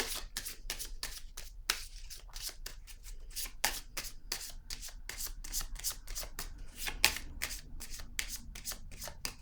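Tarot cards being shuffled by hand: a rapid series of crisp riffling flutters and taps, close and fairly quiet, repeating in quick irregular bursts with no voices.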